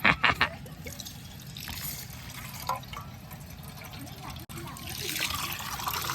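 Water pours and trickles into a container at home, a steady liquid flow with a few sharp knocks at the start, while people talk over it.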